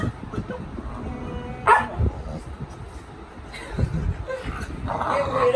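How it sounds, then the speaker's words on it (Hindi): A dog barks in short, scattered bursts and yips, close by, amid people talking in a home setting. "कुत्ता"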